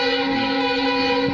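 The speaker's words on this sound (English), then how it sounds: "train engine is coming that you can see" A train engine rolls past at sunrise with a steady, droning mechanical hum and a tonal, horn-like whine, loud and constant throughout.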